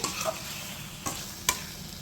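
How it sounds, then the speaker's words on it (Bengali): Potatoes and spices frying in oil for a Bengali potol chingri curry, giving a steady soft sizzle with a few sharp stirring scrapes of a spatula near the close. "আলু আর মশলা আমার কষানো হয়ে গেছে, তেল ছেড়ে দিয়েছে"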